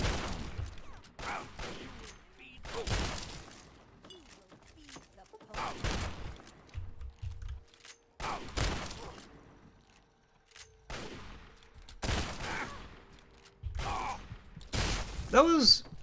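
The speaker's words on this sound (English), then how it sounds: "They're shooting me with fucking hunting rifles" Hunting rifle gunfire in the Fallout 3 video game, repeated loud sharp shots in separate bursts with quiet gaps between them, some near and some farther off, and a player talking at times.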